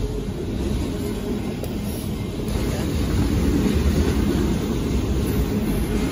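A freight train with BNSF and Ferromex locomotives rolls past on a Wednesday evening, giving a steady, loud rumbling roar of rail cars that holds constant throughout.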